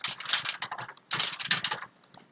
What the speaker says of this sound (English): you could start typing down here